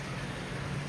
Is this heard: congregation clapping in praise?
no